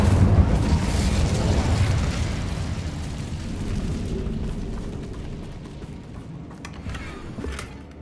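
The Incendio fire spell blasts in the Hogwarts Legacy video game with a loud rushing, roaring burst. It fades gradually over several seconds, with faint crackling at the end.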